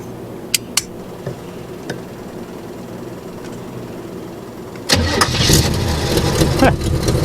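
A Chevrolet Monte Carlo SS engine that had sat for 20 years turns over and fires at about five seconds, settling into a loud, steady rumble close by after a few quiet clicks and handling noises.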